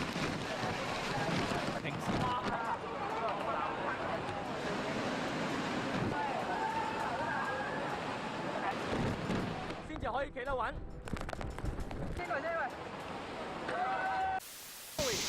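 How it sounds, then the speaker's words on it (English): Typhoon winds roar through a Hong Kong street, with heavy gusts buffeting the microphone in a continuous broadband rush, mixed with faint street noise and voices. "These pedestrians have fun fooling around with the winds of a typhoon in Hong Kong."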